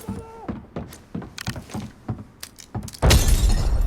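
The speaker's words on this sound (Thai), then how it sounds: "เดี๋ยวปาระเบิดเช็คตรงนี้" Several short thumps and clatters, then a sudden loud burst of noise that carries on as a rough, sustained blast of a grenade explosion in the game Arena Breakout.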